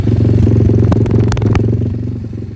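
A small ATC 190 mini trike engine, fitted with a Typhoon 125 motor, idles with its fuel turned off, a close, steady low putter with light mechanical clatter that fades slightly toward the end, with no voices.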